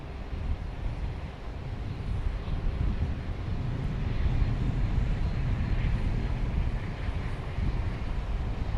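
A business jet at Dallas Love Field roars at night, a broad rumbling engine noise that swells and holds steady across several seconds, heard from a distance through some wind noise with no talk.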